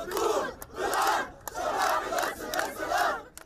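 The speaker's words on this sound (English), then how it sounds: "this crowd behind me chanting slogans" A crowd chanting slogans at Damascus Gate in Jerusalem amid street disturbances, rhythmic rising-and-falling shouted phrases repeated in regular bursts, loud and fairly close.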